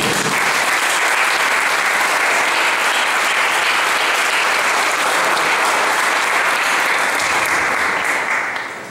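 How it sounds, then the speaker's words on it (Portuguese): A church congregation at a prophets' school conference bursts into loud, sustained applause for the Lord, a dense and even wash of clapping that holds for almost nine seconds before tapering slightly at the end. "Dá uma aplauso ao Senhor."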